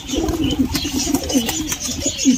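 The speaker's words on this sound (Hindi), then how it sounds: "तो दाने डाल देते हैं दोस्तों कबूतरों को अपने," Pigeons being fed grain coo repeatedly in a close, continuous chorus of throaty rolling calls, with light tapping and fluttering behind them.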